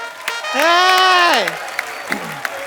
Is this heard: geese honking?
no